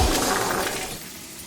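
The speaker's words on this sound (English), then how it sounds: "they turn the mirror into jagged shards of broken glass" A mirror shatters into jagged glass shards in the Slay the Princess video game, a loud crash at the start decaying quickly into fading tinkles.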